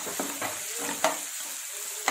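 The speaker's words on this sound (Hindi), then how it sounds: "इसके अंदर मैं बारीक कटा हुआ प्याज डालूंगी, इनको हमें गोल्डन होने तक अच्छे से भूनना है।" Finely chopped onions frying in a pan while being stirred for keema masala, giving a steady close sizzle broken by a few light clicks of the spoon against the pan.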